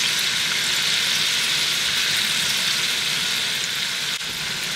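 White wine and small peppers with a few mushrooms sizzle steadily in a hot frying pan, a dense, even hiss that stays loud and close throughout with no talking.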